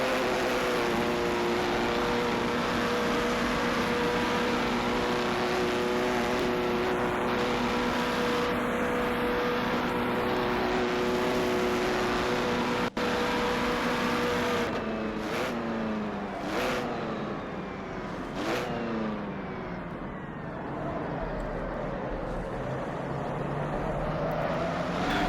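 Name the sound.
racing cars in a 1939 Grand Prix racing game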